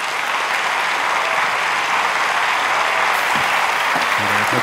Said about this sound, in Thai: ผมขอเสียงปรบมือดังๆให้กับคุณเอิร์นครับ